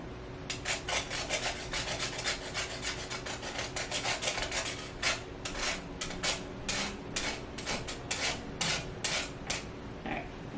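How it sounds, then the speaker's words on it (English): A fresh ginger piece is rasped across a grater in a steady rhythmic series of scratchy strokes, close and clear, repeating for several seconds without talk. "I got a different piece of ginger. We need to grate a little bit"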